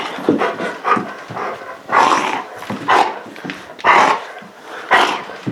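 A dog barking and panting during play, with repeated bursts roughly once a second, close and fairly loud, alongside excited whimpers and breathy pants.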